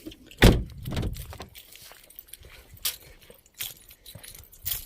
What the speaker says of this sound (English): So for the clanking, that's my keys.